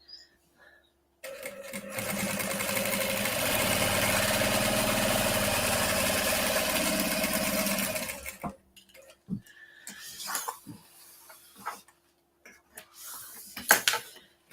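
A sewing machine stitches two lines on a bag with a wide zipper, a steady close mechanical whir for several seconds that stops, followed by scattered handling clicks and rustles with brief speech.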